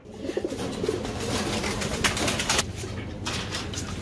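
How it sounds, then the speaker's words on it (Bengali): Imported pigeons, a ringed pair, coo softly in their enclosure amid a steady background hum, with low repeated cooing phrases close by and faint rustling. "একদম ইম্পোর্টেড কবুতর, ডাবল ব্র্যান্ডের রিং পরানো আছে মাদির পায়ে, নরের পায়ের রিং কেটে দেওয়া আছে"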